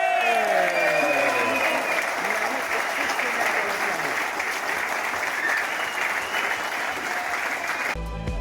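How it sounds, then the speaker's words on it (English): Loud, sustained applause from a crowd at the World Feeder Fishing Championship in Belgium, cheering the winning team, running steadily throughout and cutting off abruptly near the end. "Give them a big round of applause,"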